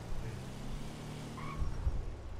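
A car in GTA V lands and drives off, its engine rumbling steadily under two short thuds of impact.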